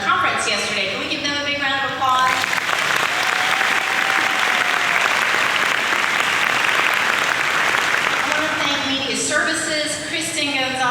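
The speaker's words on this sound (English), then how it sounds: "Can we give them a big round of applause?" Warm audience applause at a college all-staff gathering, a full steady clapping swell lasting several seconds, with a speaker talking before it begins and again as it fades.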